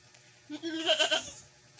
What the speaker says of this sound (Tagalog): Ito po yung update dito sa 8 days na kambing natin.